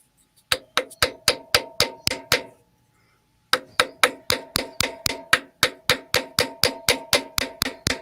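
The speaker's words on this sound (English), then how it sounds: "Just give that a gentle tap, but make sure it's not on a groove, that it's on the solid part of the pulley" A hammer tapping the solid part of a metal pulley to free a jammed stem, a long run of evenly spaced ringing clinks, with a brief pause before the regular tapping resumes.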